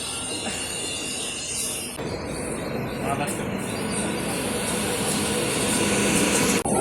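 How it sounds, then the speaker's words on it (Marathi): A crowded morning train rumbles steadily into a Mumbai station, a loud continuous roar of wheels and engine with a brief sharp clank near the end. "हे बघा साडेतीनची ट्रेन आता आली"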